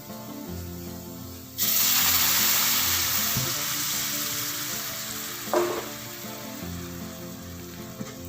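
Boiling water poured into a pan of fried spice paste for a Kerala-style ginger curry bursts into a loud, continuous hiss and sizzle that slowly fades, with a clink of utensils midway.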